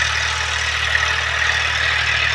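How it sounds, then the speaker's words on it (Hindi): A tractor engine running in a farm field during tilling, a steady, fairly loud mid-pitched drone with a constant low hum and no voices. "वो देखिए ट्रैक्टर आ रहा है"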